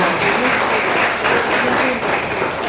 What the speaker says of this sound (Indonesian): tepuk tangan dong buat forum anak